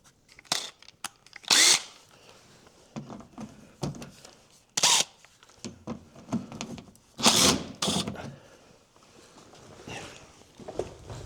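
A power tool removes 10 mm bolts on a 2017 Toyota Highlander during a trailer hitch install, short loud whirring bursts up close separated by pauses and faint handling noises.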